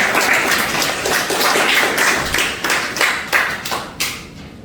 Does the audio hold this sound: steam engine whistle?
no